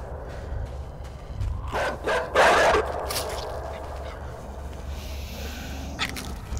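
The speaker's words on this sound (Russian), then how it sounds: "слышу собаку, бегу обратно" A dog barks in a couple of short, mid-distance bursts against a steady low ambient drone in the side-scrolling game Inside, with no talking over it.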